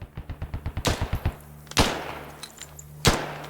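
Automatic weapon fire in the tactical shooter game Squad: a rapid burst of about a dozen shots, then several heavier single cracks spaced apart, fairly close with ringing tails.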